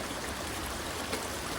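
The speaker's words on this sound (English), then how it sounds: "I'm climbing this over this little creek" A small creek flows outdoors on a trail, giving a steady, close rushing and trickling of water with no pauses.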